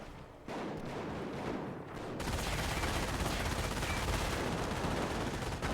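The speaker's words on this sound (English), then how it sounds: "Both the rifle grenades have been fired" Rifle grenades and rapid gunfire in a Company of Heroes battle, with dense bursts of shots and explosions crackling continuously and growing louder partway through.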